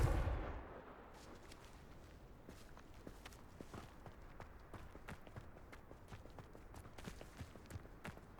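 Confringo blasting curse from Hogwarts Legacy bursts loudly at the very start and quickly fades, leaving faint scattered footsteps and light impacts afterward.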